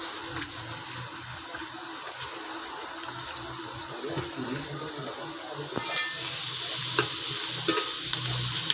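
Chopped onions fry in oil in a pan while being stirred for chicken pulao, giving a steady close sizzle with soft scraping stir strokes and a few louder clicks near the end.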